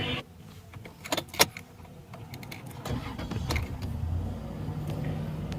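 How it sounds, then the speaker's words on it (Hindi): A Toyota Land Cruiser Prado engine being started in a workshop after throttle body cleaning and tuning, with a few clicks and jangles before the engine cranks and settles into a low, steady idle. "गाड़ी अब करते हैं स्टार्ट।"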